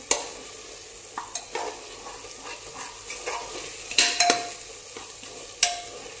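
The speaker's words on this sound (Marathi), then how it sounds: "आता इथे हे आपल्याला अजून 1 ते 2 मिनिटांसाठी छान असं तेलावरती भाजून घ्यायचं आहे" Masala paste with plenty of coriander fries in oil for a Marathi-style chicken curry, a steady low sizzle broken by scraping spoon strokes and a few sharp metallic taps against the pan, close up with no voices.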